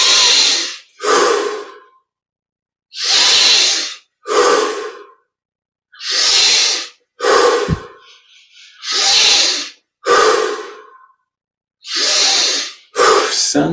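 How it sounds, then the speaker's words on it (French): Deep yogic breaths in a guided breathing exercise, drawn in and pushed out in about nine strong bursts at a steady rhythm, each loud and close with brief silent gaps between, the airflow growing fuller and more forceful. "On augmente l'amplitude de chaque respiration."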